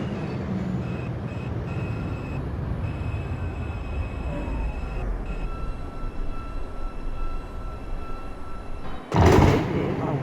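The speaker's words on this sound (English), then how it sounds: "This is a Wakefield-bound 2 train" An R142 subway car on the 2 line rolls toward Wakefield, a steady low rumble and hiss heard from inside, ending in a brief loud clatter near the end.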